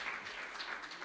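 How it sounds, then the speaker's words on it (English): A brief burst of audience applause at a professional IT and creative industry event, many hands clapping densely together at moderate distance for about a second. "Can we give a round of applause for Shrey for explaining that so effectively?"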